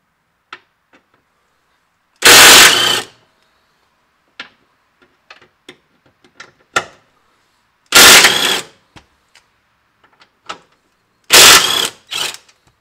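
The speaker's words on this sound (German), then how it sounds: "nehmen wir uns einen Schlagschrauber und ballern das alles mal raus hier" An impact wrench hammers out tow eye bolts on a Nissan X-Trail in three loud rattling bursts of about a second each, separated by quiet clicks and handling of tools and parts.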